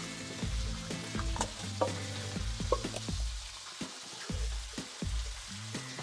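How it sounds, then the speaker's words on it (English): Onions and bacon sizzle in a pan for a beef and red wine casserole, with a steady close frying hiss broken by repeated scraping stirs of a utensil. "Give your onions and your bacon a bit of a stir."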